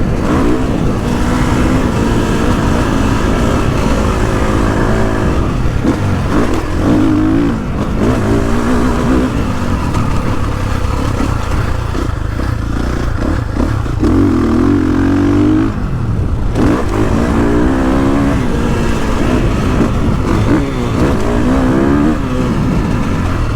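A 2021.5 KTM 450SXF Factory Edition motocross bike rides a dirt track, its engine droning loud and continuous with rising and falling revs as the rider shifts and accelerates.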